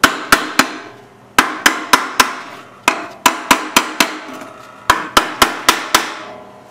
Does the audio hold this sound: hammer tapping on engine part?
yes